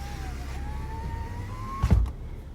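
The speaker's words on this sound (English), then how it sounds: "Let's roll up the window" A power window on a 2019 Nissan Versa Note whines steadily upward over the car's low idle, ending with a soft thump as the glass seals shut.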